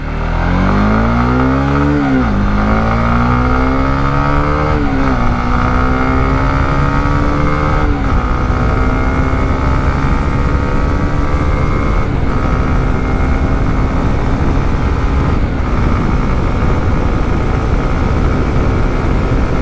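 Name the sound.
motorcycle engine revving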